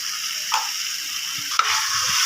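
Spice masala with a half spoon of ground cumin and a splash of water frying in a pan for masala egg pulao: a steady hiss of sizzling with a couple of brief stirring knocks.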